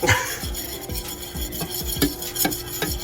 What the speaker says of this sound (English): So you just keep whisking until your arm gets tired